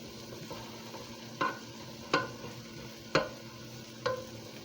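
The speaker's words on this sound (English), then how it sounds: "Let it kind of saute itself a little bit while your hamburgers are cooking." Hamburger patties and vegetables sauteing in a pan give a steady low sizzle, broken by four evenly spaced spatula scrapes, close and alone with no talk.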